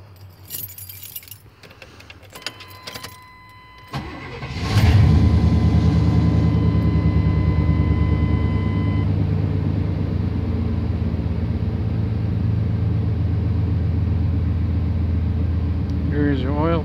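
A 1994 Chevy K1500 parts truck starts with keys jangling and a short crank, then its engine settles into a steady, loud, even idle for more than ten seconds while a person speaks.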